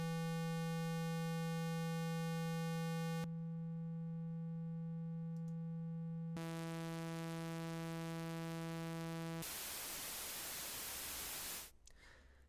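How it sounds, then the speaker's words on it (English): An EduSynth synthesizer oscillator in Reason holds one steady low note as its waveform changes in turn, from a pure tone to buzzier, brighter shapes and finally to hissing noise, with no voices. "The sound is generated at the oscillator module, where we can choose the waveform we want to work with"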